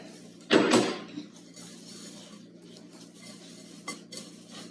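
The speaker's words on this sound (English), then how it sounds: "And then I'm just going to stir that together." A spoon stirring a honey mixture into oats, nuts, coconut and a little salt for homemade granola in a bowl, with one loud clattering scrape at the start, then softer rustling stirs and another clink near the end.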